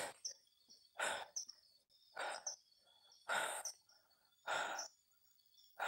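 A series of short, bright chirps like baby chicks peeping, coming in repeated bursts about once a second with quiet gaps between, fairly close.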